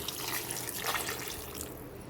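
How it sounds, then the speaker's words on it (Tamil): Water poured from a vessel into a pan of drumstick poriyal coated in masala, a soft steady splashing trickle that fades toward the end, with no talk. "இப்போது நம்ம இந்த முருங்கைக்காய்க்கு வேகிறதுக்கு கொஞ்சம் தண்ணி சேர்த்துக்கலாம்."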